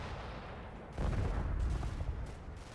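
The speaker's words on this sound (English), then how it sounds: "Tank round or mortar round, that little piece of nightmare in the middle there." A tank or mortar round explodes in the WWII strategy game Combat Mission: a sudden heavy boom about a second in, followed by a sustained rumbling roar of close, loud explosion noise under lingering battle din.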